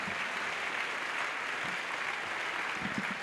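A church congregation claps steadily together as an offering to Jesus at an evangelistic crusade, dense continuous applause filling the space at a moderate, even level with no talk over it.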